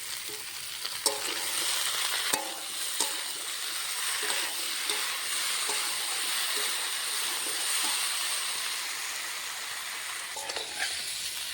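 Cauliflower and flat beans fry with a ground ginger, cumin and green chilli paste in a pan, giving a steady close sizzle with occasional sharp clicks of stirring, and no talk.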